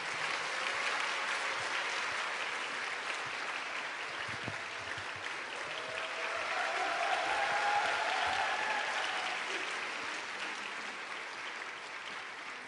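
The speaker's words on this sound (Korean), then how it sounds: "다시 한번 큰 박수 보내주시기 바랍니다." A church congregation applauds at a joint choir festival worship service, with sustained dense clapping throughout and a faint voice briefly heard midway.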